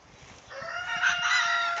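A rooster crows loudly and nearby on a farm, rising partway in, with chickens clucking and low farmyard noise underneath.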